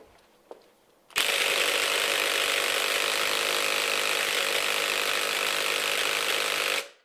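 A Ryobi impact wrench hammers continuously at a stubborn nut it cannot free, a loud, dense rattling burst that starts abruptly after a second of near quiet and runs steadily for nearly six seconds before cutting off.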